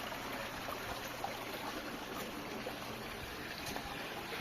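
A buried pump pushes water through underground piping into a 200-litre drum, giving a steady, continuous rushing and trickling wash with a faint high whine above it, even and unbroken throughout.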